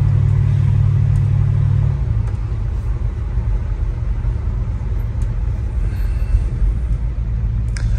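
A 1965 Chevrolet Impala wagon with a 409 big-block V8 runs steadily with a deep, loud rumble close by. The tone shifts slightly lower after a couple of seconds and then stays even.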